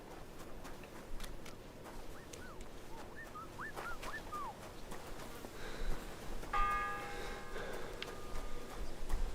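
A church bell rings out from the medieval world of Kingdom Come Deliverance 2, its tones entering over halfway through a quiet outdoor ambience of chirping birds and low background rumble, moderately loud with a lingering ring.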